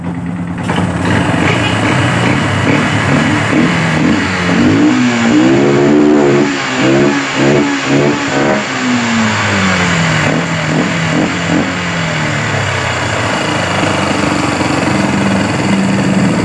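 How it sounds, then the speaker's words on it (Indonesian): A Yamaha Byson motorcycle engine, fitted with a substitute Supra starter bendix, catches and runs, its steady close idle rising into a few revs mid-clip before settling back to an even rumble, with no talking over it. "Ini pasti langsung menyala motornya."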